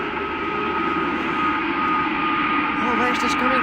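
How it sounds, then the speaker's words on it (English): A low-flying airplane roars continuously and loudly overhead at night in Amsterdam, a dense sustained engine drone with no break. "Is it the plane so nearby?"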